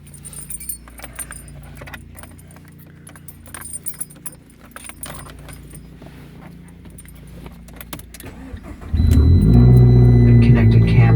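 Keys jingle for several seconds before a 2013 Fiat Abarth engine cranks and catches, then settles into a loud, close, steady idle rumble.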